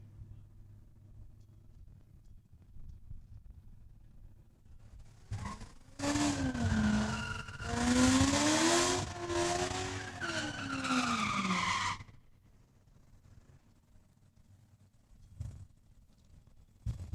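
Race vehicles at Saskatchewan International Raceway in Saskatoon launch off the drag strip line, a loud screaming engine burst with a rising and falling pitch that lasts about six seconds, then cuts off, leaving faint idle and distant rumble.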